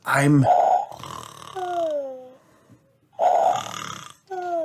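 A voice performs cartoonish snoring for Peppa Pig: throaty snorts on the in-breath alternating with high, falling whistles on the out-breath, repeated twice.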